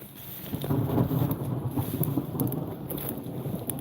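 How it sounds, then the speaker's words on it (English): Low rumbling thunder from a storm in the area, heard outdoors on open water while fishing for carp and gar, a steady distant roll mixed with wind buffeting the microphone. "A little bit of thunder."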